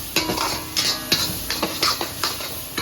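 A spatula scrapes and stirs thick Chettinad crab curry masala in a kadai, in steady rhythmic strokes over a close sizzle, with no voices.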